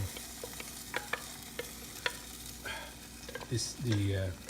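Liver puree stirred into a frying lechon sauce, soft steady sizzle under repeated spoon scrapes and taps, with a brief voice murmur near the end.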